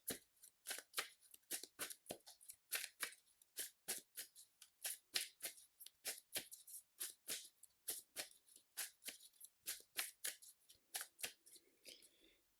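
Playing cards for the Marvel Champions card game are shuffled close up in a long run of quick, crisp riffles and slaps, each burst separated by short pauses, with no talking.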